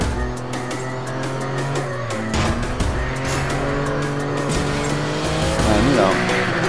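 Tires squeal as a video game car corners under hard braking and full steering lock, a steady engine drone running underneath and the screech rising toward the end.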